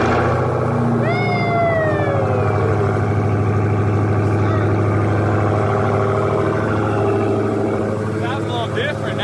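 A Dodge Hellcat Redeye fires up and settles into a loud, steady rumbling idle close by, a brief rising whine sweeping over the start, holding constant with no revving.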